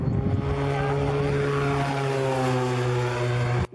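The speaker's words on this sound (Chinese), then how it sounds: "停在跑道的无人机加速后迅速升空" A military drone at an army target range in Taimali, Taitung, roars loudly as it accelerates down the runway and lifts off, its steady propeller-engine drone holding strong and even throughout before cutting off abruptly at the end.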